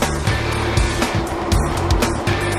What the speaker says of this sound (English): this is where we apply that poor man's ABS cadence braking